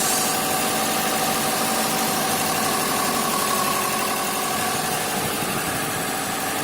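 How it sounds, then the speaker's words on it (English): A 2005 Subaru WRX wagon engine idles steadily after a valve cover gasket replacement, a continuous low rumble with a faint mechanical hum and no voices. "Engine's idling good."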